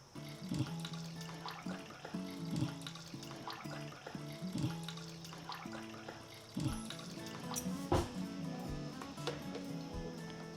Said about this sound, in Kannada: ಈಗ ಇದಕ್ಕೆ ನೀರು ಹಾಕ್ತೀನಿ. ನೀರು ಹಾಕಿ ಸೋಸ್ಕೊತೀನಿ.